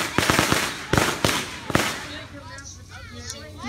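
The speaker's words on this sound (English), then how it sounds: "that firecracker she just lit off" Firecrackers crack off during a 4th of July celebration, a handful of sharp close pops in quick bursts early on, followed by quieter crackling with people talking over it.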